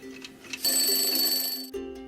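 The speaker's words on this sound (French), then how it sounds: "Le réveil sonne enfin" An alarm clock rings loudly and shrilly for about a second, cuts off, then starts again briefly, over a faint steady tone.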